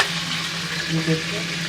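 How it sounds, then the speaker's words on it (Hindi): Chicken pieces fry in hot oil in a pan with a steady, close sizzle that holds throughout a brief moment, and a short spoken phrase sits over it. "हमारे अच्छे से फ्राई हो गया है चिकन।"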